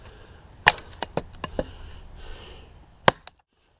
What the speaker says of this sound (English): Chips are hitting the tent.